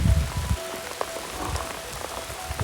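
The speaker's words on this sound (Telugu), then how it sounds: "వర్షం పడుతుంది" Rain patters steadily nearby on a foggy Himalayan trekking trail in Nepal, with a faint tone in the background and no talking.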